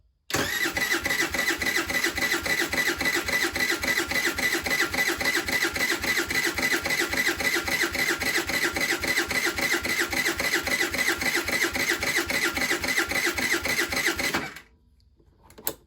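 A Baja SC50 scooter's small engine being started with the choke on, a fast, even rhythmic cranking chug that continues steadily for about fourteen seconds without catching, then cuts off to near silence.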